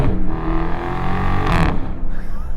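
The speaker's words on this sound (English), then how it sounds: "Hear those backfire gear changes?" A 2023 Chrysler 300C with the 6.4L Hemi revs hard on a drive, its exhaust popping and crackling with backfire bursts at the gear changes, loud and close, with no talking over it.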